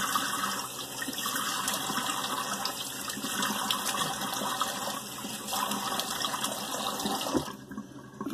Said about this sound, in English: Alright, cold water rinse.